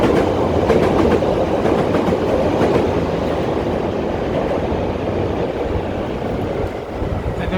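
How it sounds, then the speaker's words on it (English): An elevated train rolls past on the tracks in downtown Chicago, close and loud, with a continuous heavy rumble and rhythmic clattering wheels that ease slightly toward the end. "we're lucky, we're getting a train coming"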